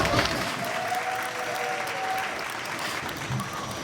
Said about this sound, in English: Crowd goes wild as Chief gets the W.